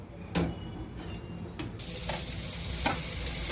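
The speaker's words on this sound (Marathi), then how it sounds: "आता दोडक्याचा खीस भाजत आहे." Grated ridge gourd roasts in oil in a pan, a steady close sizzle with a few scraping stirs, the frying hiss growing brighter and fuller partway through; no speech.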